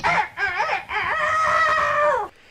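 A voice imitates a rooster's cock-a-doodle-doo, a loud, close, rising and sustained crow lasting about two seconds, stopping abruptly, with no other talk.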